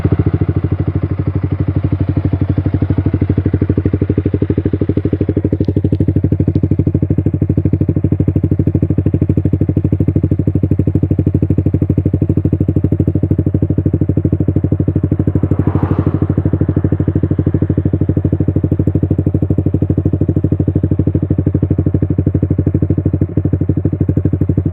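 Yamaha R15 V3 motorcycle fitted with a black Proliner Pro SV full-system exhaust, idling steadily and loudly for the whole stretch with a deep, even burble and one brief rev-like swell midway, no talk.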